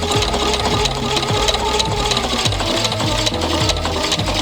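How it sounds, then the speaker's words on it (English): A sewing machine runs steadily with a fast mechanical whir and rhythmic knocking as it stitches, close and continuous, no speech. "I'm just going to go over it with my sewing machine"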